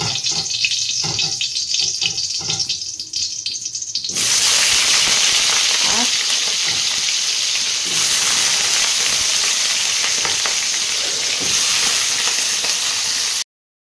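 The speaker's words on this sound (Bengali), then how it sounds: "তো আমি না আলুগুলো আর কি ভেজেই করবো, একটু ভেজে নিই।" Potatoes go into hot oil in a wok: a quieter stretch of cooking noise gives way to a loud, steady hissing sizzle that holds for about ten seconds before cutting off abruptly.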